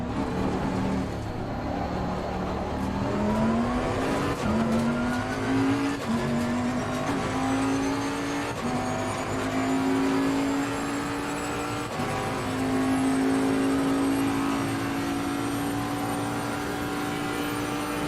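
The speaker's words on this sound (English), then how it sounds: "There's a car leaving the pit lane." A race car engine in Assetto Corsa Competizione drones steadily at high revs, its pitch stepping upward through gear changes and holding loud and close for the whole stretch.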